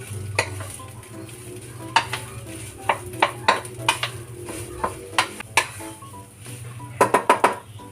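A utensil stirring breakfast food in a pan, giving a string of sharp scraping clicks and taps over a low steady sizzle, close and alone without any talk.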